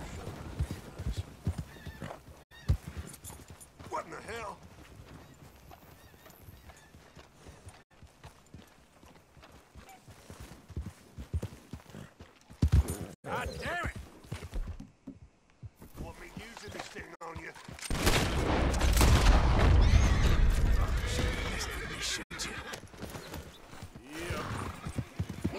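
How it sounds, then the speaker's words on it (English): Horse hooves clip-clop past in Red Dead Redemption 2, with whinnies and galloping growing louder as the rider nears, over quiet game ambience. "there's a guy riding by on a horse because it's so close"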